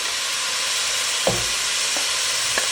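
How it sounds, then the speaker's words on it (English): Garlic and cabbage hitting hot onions, carrots and celery in a soup pot, a steady broadband sizzle with a few brief louder crackles as ingredients drop in, close and continuous. "It's sizzling away."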